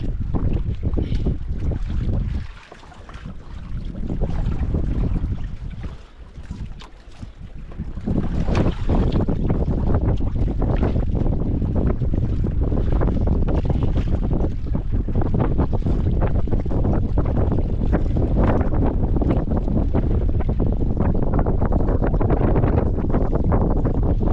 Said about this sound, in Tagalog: Grabe ng hangin na god. Malakas talaga